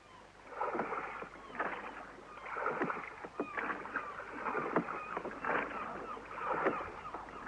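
Oars dip and pull through water in a steady rhythm, each stroke bringing a splashy swish, close by and moderately loud.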